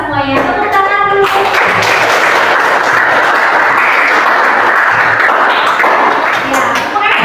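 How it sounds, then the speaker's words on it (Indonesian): Students in a classroom break into loud, full applause, a dense wash of clapping that swells after a brief spoken lead-in and holds steady, with a voice rising again near the end. "Tepuk tangan dulu."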